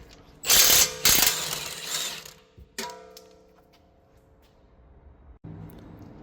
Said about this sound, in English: Then you got your socket, your 22, and just take it off.